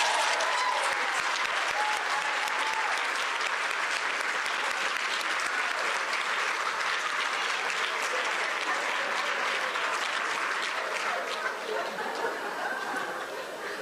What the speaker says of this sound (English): that applause worked out really well